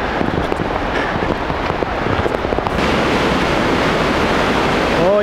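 Winter waves on one of the Great Lakes break and wash in a steady, loud roar of surf that runs without pause throughout, with no talking.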